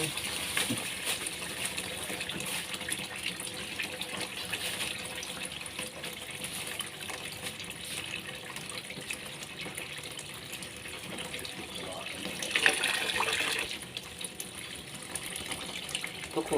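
Water from a garden hose runs steadily into a lotus tub, a continuous splashing and pouring flow close by with a brief louder gush near the end, no talking.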